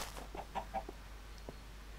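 A blocky Minecraft chicken clucks in a few short soft bursts, quiet and close against a low background hum, with no talking.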